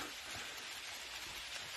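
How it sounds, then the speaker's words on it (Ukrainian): Light rain falls steadily through a forest as a soft, continuous hiss of drops on leaves, quiet and even with no voices. "Такий дощ ще можна терпіти."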